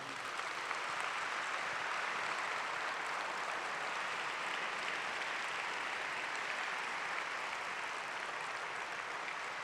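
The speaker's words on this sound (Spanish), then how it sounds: "merece que ustedes me acompañen a aplaudirlo" An audience applauding Parrado, a survivor of the Andes plane crash, at a talk by survivor Carlos Páez Vilaró: a dense, even roar of many hands clapping, sustained and fairly distant, with no talking.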